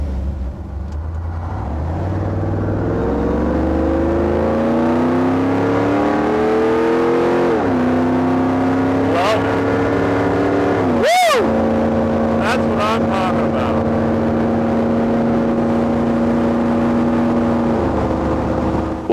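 A V8 Jeep CJ7 on one-ton axles with a link suspension drives close by, the engine note climbing steadily as it revs, dropping between gears, with a brief sharp burst partway through.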